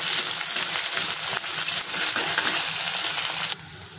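Crushed garlic and a large chopped onion sautéing in oil until golden, a loud, dense, close sizzle with stirring, easing off sharply near the end.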